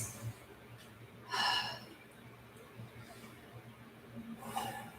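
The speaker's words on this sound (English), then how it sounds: "Two more big breaths." A person breathes deeply in a yoga session, with a loud inhale and a slower exhale of breath near the microphone over a faint steady hum, and another breath rising toward the end.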